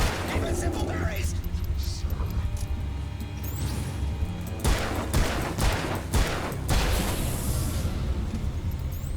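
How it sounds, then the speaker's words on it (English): Rapid bursts of gunfire from the Alan Wake video game, a series of sharp shots clustered in the second half over a steady, rumbling game soundscape. "Takes 11 shots to bring down Rusty on normal."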